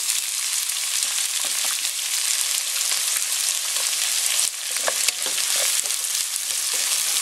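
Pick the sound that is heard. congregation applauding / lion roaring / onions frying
onions frying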